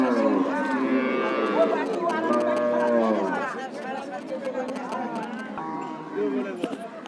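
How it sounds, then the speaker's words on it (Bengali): A good-breed cow tethered at a busy cattle market in Rajshahi, Bangladesh, lets out a long, loud, close moo and then shorter lowing calls, while people talk in the background. "দর্শক দেখতে পাচ্ছেন এখানে একটা ভালো জাতের গরু বাঁধা আছে"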